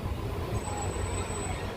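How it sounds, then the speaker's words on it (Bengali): A train pulls out of Odlabari station with a steady low rumble of rolling wheels and a thin high squeal drawn out over the noise, close and continuous. "ওদলাবাড়ি স্টেশন থেকে আমাদের ট্রেন ছেড়ে দিল"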